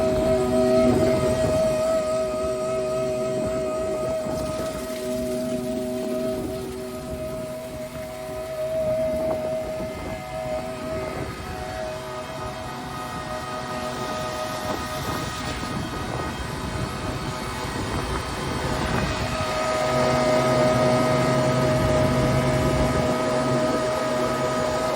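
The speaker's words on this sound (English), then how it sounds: "The agitator's blowing into there and blowing out the bottom." Tractor-mounted crop sprayer with its tank agitator running, a continuous mechanical hum and whine with steady tonal drones and rushing noise, loud and close throughout without talk.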